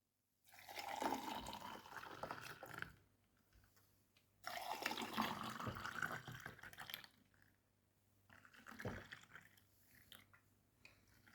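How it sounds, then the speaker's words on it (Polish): A blended watermelon cocktail with ice is poured out in three separate close pours, each a splashing, gurgling stream with short pauses between them. "Lód dodany, więc możemy nalewać."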